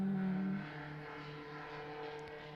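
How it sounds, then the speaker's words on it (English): Loud cars pass in the distance, a steady low engine rumble and drone that swells early, then settles into a broad continuous roar. "More loud cars."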